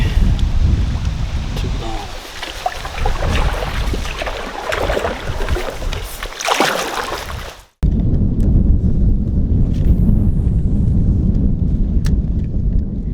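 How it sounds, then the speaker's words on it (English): Strong wind roars and buffets steadily out on open water on a sunny day, close and loud, with a rushing watery wash underneath; after a brief cutout the gusty rumble continues. "the wind starts to blow stronger and stronger"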